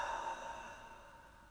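A soft, airy breath released out the mouth as part of a guided deep-breathing exercise, quiet and near, tapering off under a low, steady musical drone.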